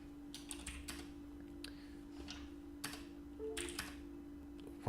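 Typing on a computer keyboard: quick clusters of light key clicks come in uneven bursts against a steady hum, close and moderately quiet, with no speech.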